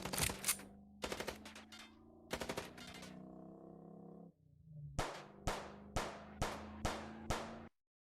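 Bursts of video-game gunfire in Chicken Police: loud rapid volleys with ringing tails, a brief pause, then a steady run of six evenly spaced single shots ending abruptly.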